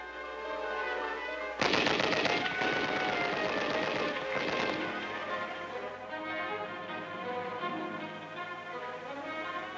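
Rapid bursts of machine gun and rifle fire during infantry weapons training at a military school, loud and dense from start to finish, with sharp volleys overlapping one another and a rumbling echo trailing under the shots.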